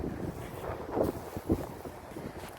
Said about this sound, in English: It's a little chilly, a little windy, a little chilly.